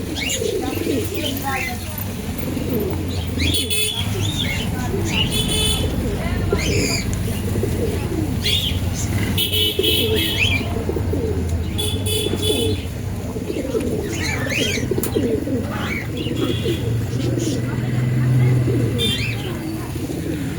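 Pigeons cooing at a pet and aquarium shop, repeated soft low coos and some chirps from several birds nearby, with someone talking throughout.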